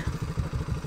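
Four motorcycles, including a KTM RC 390, a KTM Duke, a Bajaj NS200 and a Royal Enfield Bullet, ride through a forest, producing a steady, rumbling low engine drone with a pulsing rhythm that stays close and fairly loud.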